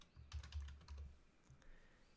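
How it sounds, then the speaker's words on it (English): Keys clatter on a computer keyboard in a quick burst of close, crisp taps, followed by a pause and a few more scattered keystrokes, with no talking. "I am going to start typing play"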